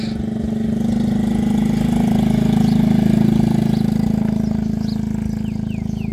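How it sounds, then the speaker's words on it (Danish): A three-wheeled motorbike engine idles and grows slightly louder as it passes close by on a rural road in northeastern Thailand, a steady low throbbing putter with faint birdsong behind it. "Så kommer en af de her flotte trehjulede motorbikes."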